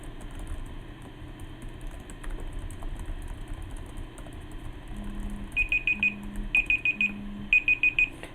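A timer alarm marks the end of a timed writing sprint with three bursts of rapid, close beeping, following a stretch of quiet background hum and faint keyboard typing.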